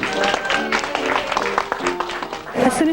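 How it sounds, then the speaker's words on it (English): An audience in a hall cheers and claps for Holly, a short burst of crowd applause mixed with overlapping voices. "Big cheer for Holly."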